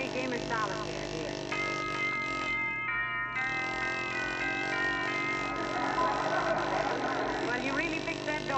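A doorbell plays a long, tinkling chime melody that rings on for several seconds over a steady low hum.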